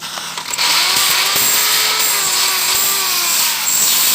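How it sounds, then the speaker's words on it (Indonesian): An electric drill whines loudly and continuously as it bores a 12 mm hole, the motor pitch wavering slightly under load. "Ini akan memudahkan kita untuk melubangi dengan cara bor yang lebih besar"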